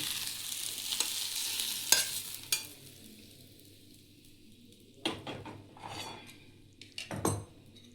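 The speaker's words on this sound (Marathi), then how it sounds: "पाच मिनिटं भेंडी परतून घेऊया." Okra sautéing in a kadhai gives a soft sizzle, broken by sharp scrapes and clinks of a spatula against the pan in several bursts, close and without talk.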